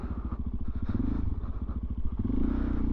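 A Suzuki DRZ400SM motorcycle being ridden, its single-cylinder engine thumping close and loud with a steady pulsing rhythm and slight rises in revs.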